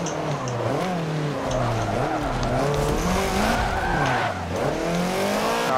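A Subaru BRZ races in an open event in the Forza Motorsport 7 video game. Its engine revs rise and fall continuously beneath loud, sustained tire skidding and squeals through corners.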